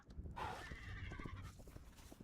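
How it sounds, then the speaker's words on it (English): A horse in the video game Hytale gives a faint, drawn-out whinny, followed by softer snorts and light hoof clops. "a horse. 2 horses, in fact."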